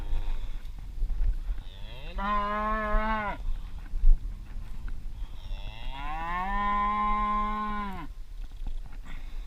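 Two long, loud bellowing moos from a nearby cow along a field fenceline, each lasting over a second with a rising then steady tone, separated by a short pause over light outdoor background noise.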